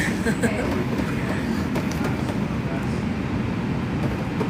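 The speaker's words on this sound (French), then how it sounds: "On est dans le métro." Steady rumbling roar of a metro train while riding inside a carriage, a continuous close rail noise throughout with faint rattles, and speech heard over it.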